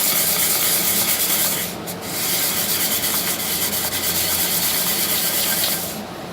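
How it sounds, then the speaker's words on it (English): Flat sanding of a transmission top plate from a 09G automatic gearbox rebuild: steady, loud continuous rubbing and scraping strokes close up, with a brief pause near the middle, no voices. "Flat sand your top plate."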